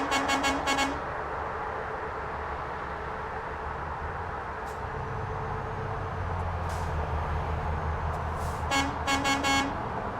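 A truck horn in Euro Truck Simulator 2 honks in quick repeated bursts at the start and again near the end, over a steady in-game engine drone.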